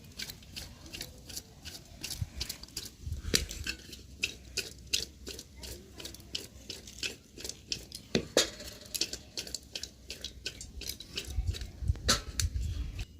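Mushroom fried rice with garam masala stirred in a kadai, giving rapid, continuous scraping and clicking of a spatula against the pan, fairly quiet and close, with faint low rumbles underneath.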